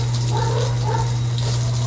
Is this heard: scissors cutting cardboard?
no